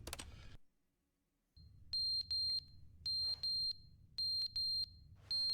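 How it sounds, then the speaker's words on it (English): An alarm beeping in pairs of sharp, high electronic tones, repeated three times after a brief pause, clear and fairly close over a quiet room. "It's beeping."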